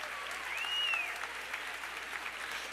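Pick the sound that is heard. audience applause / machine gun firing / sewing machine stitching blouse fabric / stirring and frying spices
audience applause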